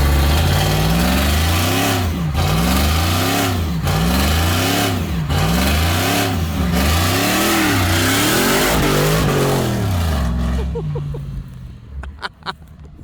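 A supercharged work van engine revs repeatedly in loud, rising and falling surges while struggling for traction, then settles and cuts out near the end.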